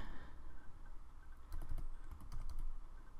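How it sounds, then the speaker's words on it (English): Typing on a computer keyboard: quiet irregular clusters of key clicks over a low background hum, close and soft, with a denser burst of keystrokes in the second half. "Then we're going to type in generate."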